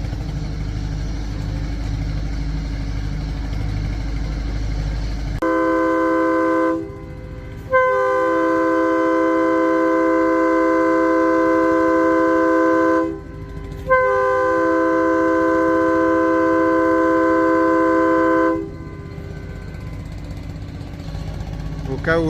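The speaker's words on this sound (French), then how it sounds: "c'était la sirène du bateau" A riverboat siren on the Amazon sounds in long, loud, steady blasts: three sustained horn tones with short breaks between them, rising over a low engine rumble.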